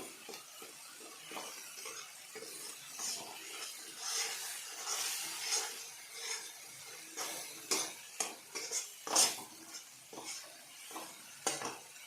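Spice paste with mustard frying in a pan for gulsha fish paturi, a quiet sizzle broken by repeated scraping stirs of a spoon against the pan, close and irregular.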